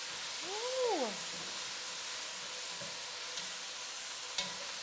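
Fennel sizzling in a pan while being stirred, a faint, steady frying hiss with a brief squeak near the start and light scraping touches.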